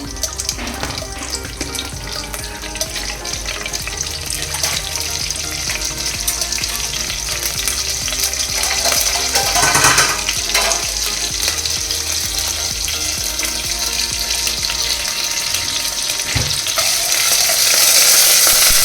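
Cumin, pepper, dry chili and curry leaves sizzle and crackle steadily in hot oil, a loud, dense frying hiss that swells slightly toward the end with no voices.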